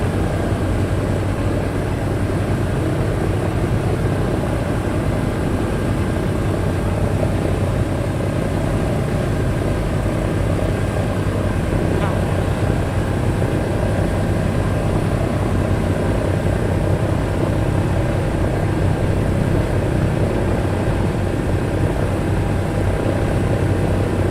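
Aircraft engines running on the ground at a Sky Master open day, two propeller engines holding a loud, steady droning hum with a constant tonal whine, unchanging for the whole stretch.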